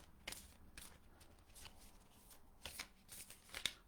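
Playing cards being shuffled, a series of soft riffling bursts in an irregular rhythm, faint and close in a quiet room.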